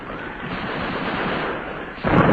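The cruiser Aurora opening fire, heard as a dense, sustained rumble of gunfire that swells steadily and then ends in a sharper, louder burst.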